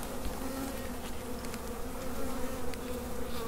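Honey bees buzz steadily at an open hive, a dense, continuous drone of many insects close by with a few individual bees passing near, no talk over it.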